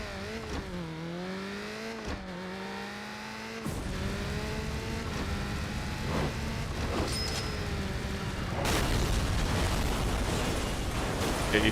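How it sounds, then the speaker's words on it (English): A car crash and explosion in the racing game Burnout 3: Takedown, with engine tones sweeping under a sudden burst, then a broad roaring, crackling blast that swells louder toward the end. "after the crash, after the explosion is done"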